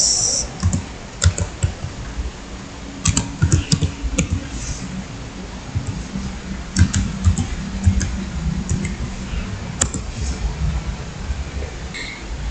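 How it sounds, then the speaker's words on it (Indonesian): Fingers type on a computer keyboard in bursts of close, crisp key clicks with short pauses between runs. "di sini teman-teman ketik download VirtualBox"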